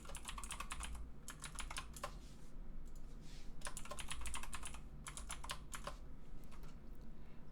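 Keys clatter on a computer keyboard in quick, close bursts of typing separated by short pauses, quiet against a faint hum.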